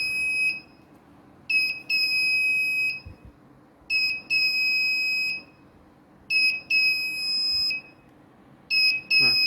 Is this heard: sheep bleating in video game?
no